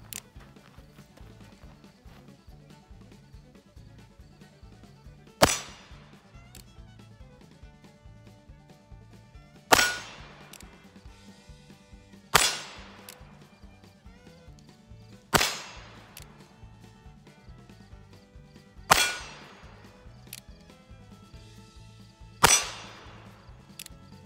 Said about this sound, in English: For the first shots, I'm going to be shooting from 10 yards, and I'm going to be shooting at the charging bull target.